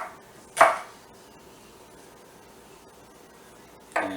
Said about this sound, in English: Be very careful with onions while you're chopping them because they are round.